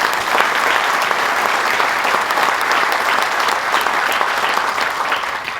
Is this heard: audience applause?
yes